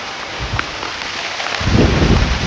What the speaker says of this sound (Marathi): शांत वातावरणात पानांवर पडणारा पावसाचे थेंब वेगळा नाद बनवतो